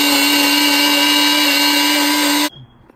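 A blender grinds tomato sauce with jalapeño or serrano chile in a loud, steady, high whir that cuts off abruptly near the end, leaving a quiet room.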